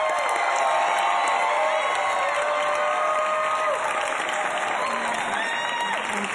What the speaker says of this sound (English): glad to know they brought their cheering section